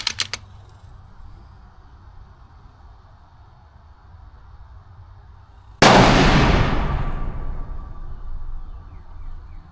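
A single sharp air rifle shot breaks a long stretch of low, quiet background, then its loud crack trails off in a decaying tail over several seconds.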